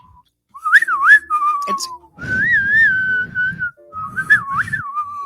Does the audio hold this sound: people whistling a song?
yes